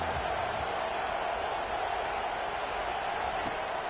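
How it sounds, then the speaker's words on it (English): A football stadium crowd roars in a constant, broad wash of noise that holds steady throughout without pauses. "listen to the roar of this crowd"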